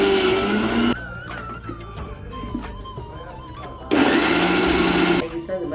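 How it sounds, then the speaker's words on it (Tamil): A kitchen mixer grinder whirring as it grinds spices into a fine paste for a village-style chicken curry, running in loud bursts with a short pause, while a voice talks over the quieter stretch. "இதை அரைச்சிட்டு நல்லா ஃபைன் பேஸ்ட்டாக அரைக்கணும்னா"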